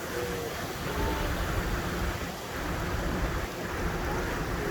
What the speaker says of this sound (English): The waterfalls are great.